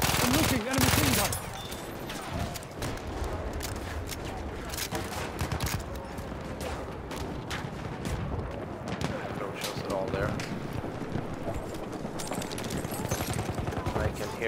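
Sustained automatic fire from a Villar Perosa machine gun in Battlefield 1 on Xbox One, dense rapid bursts running almost nonstop with explosions and battle noise, loud throughout, with brief voice in the mix.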